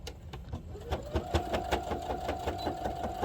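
A sewing machine stitches a cargo pocket on pants, fast regular needle clatter with a rising motor whine, close by and unbroken.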